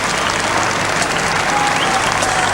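A huge crowd lining the route of the 1987 Vietnam Veterans parade in Sydney applauds and cheers as gunners march past, producing steady, dense clapping that fills the whole moment.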